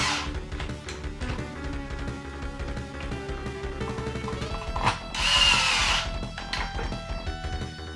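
A power screwdriver drives screws at the cartridge slot of a Sega Genesis Model 1 console, with one loud whirring burst near the middle over a quieter bed of background music and no speech.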